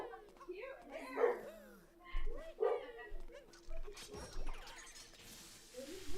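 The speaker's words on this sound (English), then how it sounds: "My puppy's barking and I'm screaming" A puppy barks and yips in short, faint bursts mixed with a person's excited shouting, amid game sounds.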